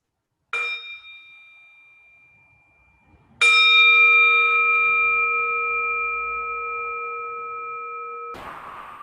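A meditation bell rings out twice in a quiet room: a short first strike that fades, then a stronger, clear ringing tone that sustains for several seconds before being cut off.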